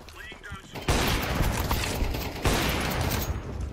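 Heavy gunfire from Counter-Strike played on FACEIT: a sudden loud burst of rapid shots around the one-second mark, sustained dense firing, then a second surge near two and a half seconds, with a brief voice-like sound before the shooting starts.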